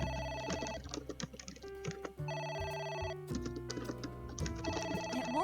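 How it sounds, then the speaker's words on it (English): A video game telephone rings on and on in a bright electronic repeating tone, with layered synthetic tones and game music running throughout at a steady, moderately loud level. "It won't stop ringing."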